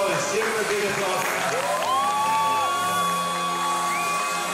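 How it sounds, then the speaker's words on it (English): A crowd at a championship event cheers, whoops and whistles loudly and continuously, with voices shouting through the steady roar. "give him a big applause"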